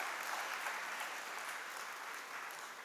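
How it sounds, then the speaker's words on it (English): A crowd of freshers and guests applauds at a university induction ceremony at VIT Chennai, a dense, even roar of clapping that holds steady and fades slightly toward the end. "Let's give a big applause to our Vice President for such guidance."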